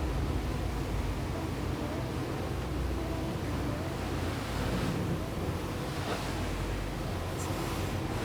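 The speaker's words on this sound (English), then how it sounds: "Now I'm pointing the bow into the waves I've created, and you'll hear how the waves behave." Low rushing water and wind wash along the hull as a Prestige M7 motor yacht's bow meets its own wake on open sea, a steady faint churn with soft splashes and no speech.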